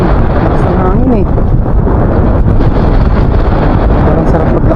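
Strong wind blows across the open sea, a loud, constant roar and buffeting against the microphone, with a muffled voice faintly audible underneath.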